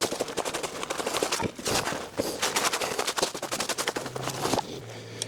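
Rapid gunshots from a 300 Blackout rifle fired at a plywood-core target about 15 yards downrange, a dense string of sharp cracks in quick succession, loud and close, with brief gaps between bursts.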